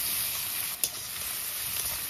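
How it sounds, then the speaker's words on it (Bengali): Chopped onions sizzle steadily in hot oil seasoned with asafoetida and whole garam masala, a continuous close frying hiss with one brief stir-like burst partway through and no talk. "পেঁয়াজটা লাল লাল করে ভেজে নেব।"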